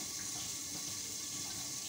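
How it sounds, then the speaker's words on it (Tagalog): Chicken rinsed under a running tap, a steady close hiss and splash of flowing water filling the whole moment, quiet and unbroken, with no voices. "Saglit. Hugasan ko lang ng kaunti."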